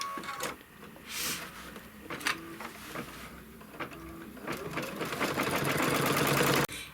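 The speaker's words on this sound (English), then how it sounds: "And then it's going to stitch the tack down." An embroidery machine stitches a quilt tack-down, with scattered clicks and thumps giving way to a steady, rising mechanical whir of rapid stitching, close up and without speech.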